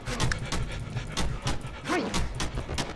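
Heavy, rhythmic panting from a character in the horror video game Cry of Fear, repeated breaths in steady bursts over a low game ambience, fairly close and loud, with no talk.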